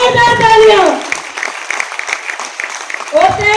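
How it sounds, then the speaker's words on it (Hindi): An audience at a direct selling event claps in a short burst between stretches of a woman's amplified speech. "के लिए भी जोरदार तालियां।"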